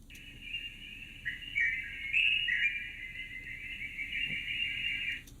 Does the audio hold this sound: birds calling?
yes